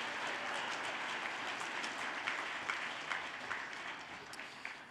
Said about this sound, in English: let's give a round of applause for McKelvey Homes, Technology Partners, and Vogel Law Office